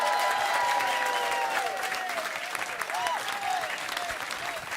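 An audience applauds an award winner at a ceremony, a dense, steady clatter of clapping from a crowd that fades slightly toward the end, with a voice speaking over it at first.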